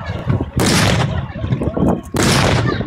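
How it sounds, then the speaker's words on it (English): Gunfire booms out during a battle demonstration at the Bovington Tank Museum, two heavy blasts roughly a second and a half apart, with a voice talking in between. "call in artillery fire on the Ruritanians"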